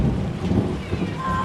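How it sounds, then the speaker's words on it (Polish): Heavy rain and a rolling thunderstorm in the Amazon jungle make a dense steady hiss with low rumbling underneath, continuous and close, with no speech. "A burza trwa."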